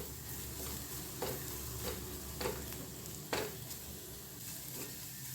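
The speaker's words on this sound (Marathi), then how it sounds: "हे दोन तीन मिनटं मी छान परतून घेतलेलं आहे मीडियम टू लो फ्लेमवरती" Mixed sprouts of moong, matki and chickpeas stirred in a pan over medium-low flame, giving a steady soft sizzle with a few louder scraping stirs spaced through it, close and with no talking.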